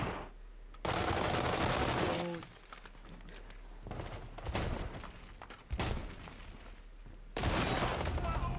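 Video game gunfire, repeated loud bursts of automatic rifle and machine-gun fire, a first long volley, a few shorter clusters, then another heavy volley at the end, sounding close and intense.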